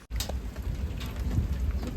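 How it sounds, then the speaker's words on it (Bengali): Rain starting up again during a big storm in Belgium, a steady close patter of drops on surfaces with a low rumble underneath, following a sharp click at the start. "আবার বৃষ্টি শুরু হয়ে গেছে"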